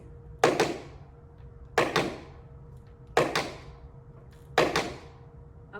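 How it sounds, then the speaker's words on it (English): Tap shoes strike a floor in a faster flap step, giving four sharp, evenly spaced double-edged taps that ring briefly against a low background hum, with no voices. "So if you wanted to do a faster flap, it would sound like this."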